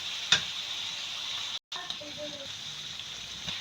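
Capsicum and beef mince fry in a pan, a steady close sizzle with a brief stir or clatter near the start and a short dropout midway, while a voice speaks faintly underneath.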